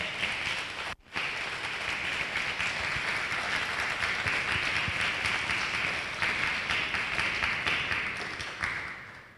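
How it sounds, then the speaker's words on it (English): A crowd gives sustained applause as a speaker comes onto the stage, with a thick, even roar of clapping that briefly dips near the start and then carries on, fading slightly at the end. "Give him a big round of applause"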